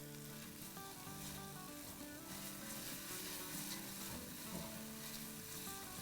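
Garlic sizzling and crackling in hot oil in a pan while spicy potatoes are being prepared, a steady close frying hiss that continues without pause.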